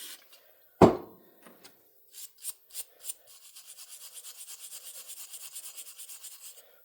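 Brisk scrubbing on a Ford 8N tractor carburetor part: a sharp knock, then a few separate brush strokes, followed by a fast, even run of rhythmic scrubbing, close and fairly quiet.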